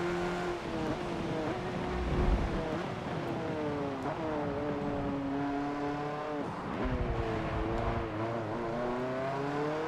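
An all-wheel drive race car engine in the video game Forza 7 drones and revs steadily, pitch climbing and dipping through gear changes and throttle lifts, continuous and fairly close with no talk.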